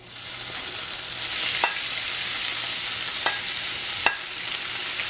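A beetroot mixture stir-frying in a pan for beetroot varai, a dense sizzle that swells slightly with a few distinct scrapes of a spatula, close and moderately loud, no voices.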